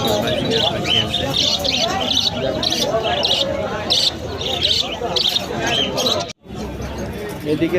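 A busy pigeon and bird market with Giribaz pigeons: birds chirp and tweet in repeated bursts over a dense crowd of people talking nearby.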